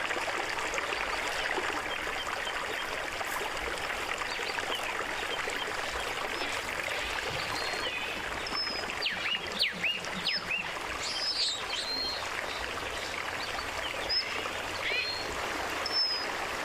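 A mountain stream in a Kenyan park flows with a continuous, moderate rushing and trickling wash, with occasional faint bird chirps above it.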